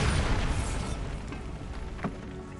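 Bombarda spell blast in Hogwarts Legacy, a loud broadband boom at the start that fades into a rumbling tail, followed by a brief sharp pop near the end, no talk.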